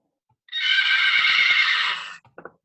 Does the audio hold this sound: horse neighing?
yes